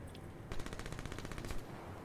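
Rapid automatic gunfire in the shooter Call of Duty: Black Ops 3, a single sustained burst of about a second standing out over the game's background noise.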